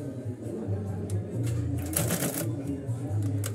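A Vogorelli sewing machine runs a straight stitch at a steady, close mechanical whir with a rapid needle rhythm, continuous under a person talking.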